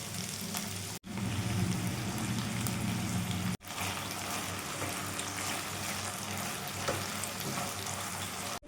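Onion and capsicum fry in a pan with soy sauce and tomato sauce for chilli fish, giving a steady crackling sizzle with stirring, briefly cut off twice, no talk.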